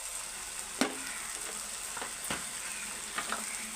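Spice masala sizzling quietly in oil in a pan, a faint steady fry broken by a few sharp scrapes of a spoon stirring.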